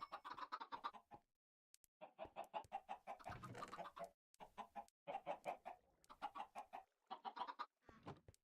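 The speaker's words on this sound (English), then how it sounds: "Still waiting on the current batch of chickens to grow" Blocky chickens clucking in the modded Minecraft game GregTech: New Horizons, a run of short, rhythmic clucks in several bursts with brief pauses, fairly close and alone with no talk.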